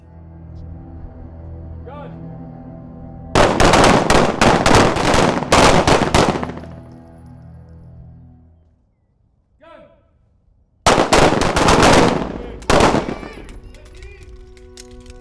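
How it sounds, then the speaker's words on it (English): Gunfire on a police academy firing range: two loud bursts of rapid, closely spaced shots, separated by a quieter gap with a faint single report, heard near and dominant over a low background. "During their time at the firing range, it becomes clear that carrying a firearm isn't just about skill"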